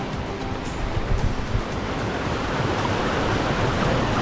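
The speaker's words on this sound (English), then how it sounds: "That's the crazy river." A rushing river below Elabana Falls in rainforest, a steady, loud wash of turbulent water that fills the whole clip with a few louder surges.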